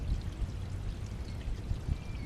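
Waste water drains from a camper's tank hose in a steady, close rushing pour with gurgling surges and no talking.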